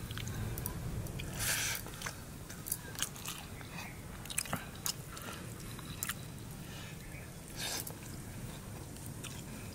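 A person eats rice with vegetable curry, chewing softly and steadily close to the microphone, with faint crunches and squishy bites over a quiet, even background hum.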